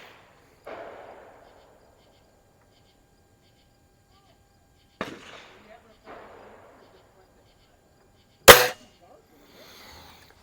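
An Anschutz model 335 .177 springer air rifle fires at a range, giving a few sparse, separate shots with spring-thump and crack. One shot is notably sharper and louder, and there are long quiet gaps between shots.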